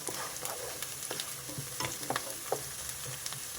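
Garlic cloves crackle and sizzle in hot oil for a garlic chicken curry, with quick, busy pops over a steady frying hiss.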